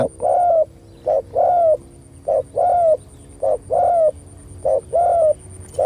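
A spotted dove used as a trapping decoy coos close by outdoors, repeated paired calls in a steady rhythm, each a short note followed by a longer one, over a faint background hum.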